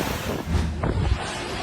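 Super typhoon wind buffets and roars in a short, rough burst of low rumbling gusts close to the microphone, in the Bicol Region of the Philippines.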